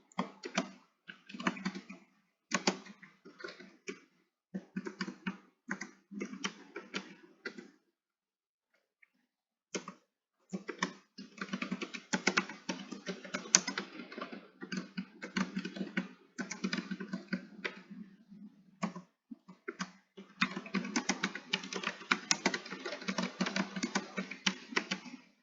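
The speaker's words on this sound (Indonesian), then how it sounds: "langsung saya ketikkan jawaban yang benar di sini" Answers are typed on a computer keyboard in bursts of quick, close key clicks separated by short pauses, with no talk.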